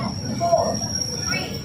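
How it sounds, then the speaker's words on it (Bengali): A train pulls into a station, rumbling low with a high wheel squeal, while people talk nearby. "না ট্রেন চলে এসছে আমাদের।"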